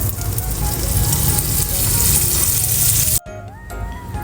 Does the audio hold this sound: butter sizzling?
yes